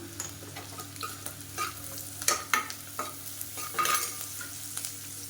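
Green chillies with salt are sautéed for a varagu rice and dal kichadi, a soft sizzle under repeated spatula scrapes and stirring knocks, near and moderately quiet.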